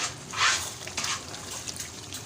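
A yogurt and spice masala mixture is stirred into chicken for biryani, giving a soft, wet sizzling and swishing with a couple of louder scrapes near the start, close and continuous with no voices.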